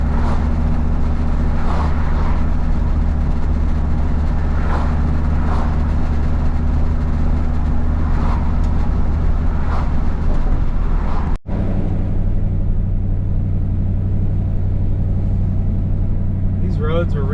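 A car with new side pipes and a leaking header rumbles steadily on a rough, recently repaved road in Portland, Oregon. The loud, constant low engine drone runs throughout and shifts briefly about two-thirds of the way in.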